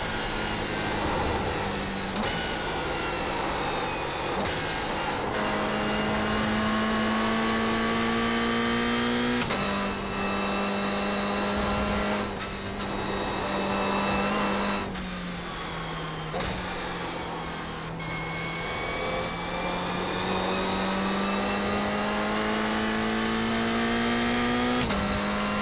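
Toyota GR86 Cup race car in iRacing at Rudskogen, its engine droning loud and continuous, climbing in pitch through each gear then dropping abruptly at shifts, repeated over several cycles with faint talk underneath.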